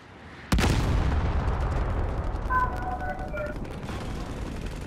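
Sudden burst of gunfire from a vehicle in the Call of Duty Modern Warfare video game, a sharp loud blast followed by rumbling echoes and scattered shots with distant tonal game sounds.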